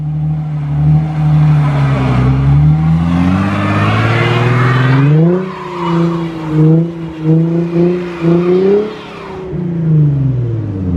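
A Nissan 350Z spins its tires without traction, the engine revving hard and rising and falling in pitch as the tires squeal, loud and close.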